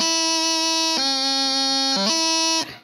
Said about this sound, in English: There's a bit of a blip there where the fingers aren't moving like they're supposed to.